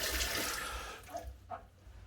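Running water rinses a batch of .22 air gun pellets, a steady broadband splash that thins out after about a second, leaving a few brief trickles and drips close by.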